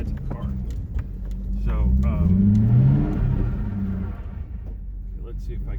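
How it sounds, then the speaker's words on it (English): A 2008 Ford Crown Victoria police interceptor rolls through gripping mud, engine rumbling and surging as wet mud slaps and patters against the sides of the car; someone speaks briefly at the start. "I can hear the mud coming off the sides of it, hitting the sides of the car."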